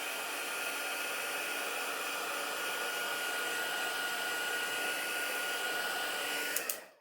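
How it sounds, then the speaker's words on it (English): Steady, loud whooshing roar of a handheld heat tool blowing hot air over freshly stamped ink, running continuously up close before abruptly clicking off at the end. "you can always run the heat tool over it just a little"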